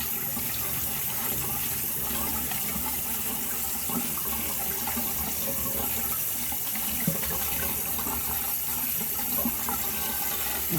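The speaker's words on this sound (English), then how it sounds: "We're just going to run that water through here." Tap water runs steadily through a strainer full of wheatgrass seeds, a continuous soft splashing hiss with small irregular spatters and no speech throughout.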